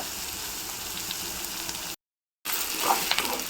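Onions sautéing in a pan for palak paneer, a steady soft sizzle heard close and alone, broken by a brief silent gap before the frying resumes.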